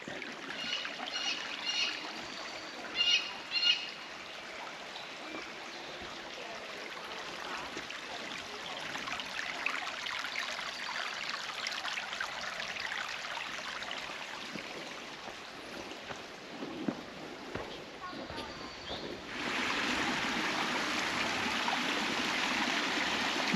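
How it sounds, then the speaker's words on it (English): Steady broadband rush of a flowing creek at Biltmore House & Gardens in Asheville, North Carolina, continuous and fairly close, with a few brief clicks early on and the flow growing louder near the end. "Listen to the creek."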